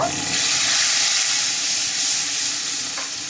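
Nigella seeds and garlic paste frying in hot oil for a spicy Bengali fish curry, a steady, close, broadband sizzle that holds evenly throughout with slight stirring noises and no talking.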